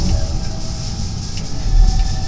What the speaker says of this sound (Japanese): 阪神電車の7000系というのでしょうか、特急電車の新海中期かな